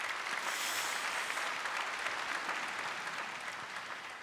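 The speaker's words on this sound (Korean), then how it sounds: "다시 한번 큰 박수 부탁드립니다" Dense, steady applause from a conference audience welcoming panel guests, a broad wash of many hands sustained throughout at an even, fairly distant level without speech.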